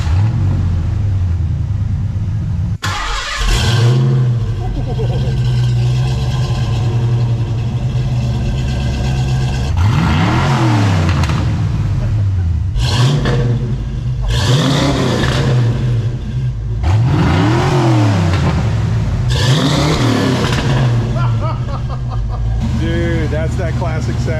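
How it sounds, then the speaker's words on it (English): Stock Fox Body Mustang V8 with its bone-stock exhaust, idling and then revved several times in distinct swelling bursts, close and loud, with rumbling idle between revs. "I got before with the stock exhaust. I'm gonna let you hear that first"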